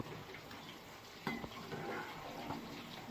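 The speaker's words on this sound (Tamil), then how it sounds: "சாதம் வேகுது" Rice boiling in a pot beside frying fish gives a faint, continuous bubbling and sizzling hiss, with a few soft clinks.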